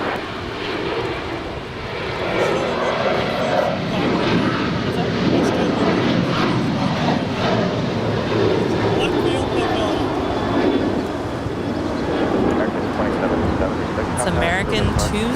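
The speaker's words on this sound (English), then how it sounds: "It's American 2776 to Chicago O'Hare. It's a 6-year-old Boeing 737-800." An American Airlines Boeing 737-800 jet roars steadily and loudly at LAX, its engine rumble constant throughout while a person talks over it.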